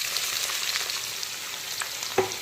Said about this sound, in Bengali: গোটা গরম মশলা আর তেজপাতাটা কিন্তু ভাজা হয়ে গেছে, তো এখন দিয়ে দিচ্ছি পেঁয়াজ কুচি।